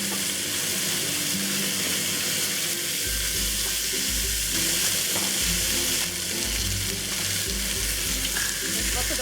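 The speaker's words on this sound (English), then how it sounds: "Give it a minute sear on the other side." Beef sears in a hot pan for Taiwanese-style beef noodle soup, with a loud, continuous sizzle and spatter throughout and occasional stirring or shifting of the meat, and no talk.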